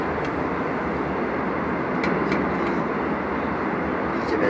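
Steady interior rumble of a train ride in Seoul, South Korea, a loud, continuous broadband drone with faint high squeals near the middle and end.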